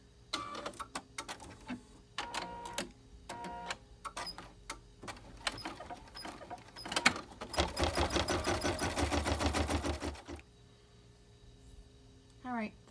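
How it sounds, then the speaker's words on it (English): An embroidery sewing machine stitches a quilted zipper bag in the hoop, with bursts of rapid mechanical clatter and a long, dense buzzing run, close by, then stops. Short pauses fall between bursts. "the machine has sewn all around the bottom of the bag and it's come to stop at the opposite end"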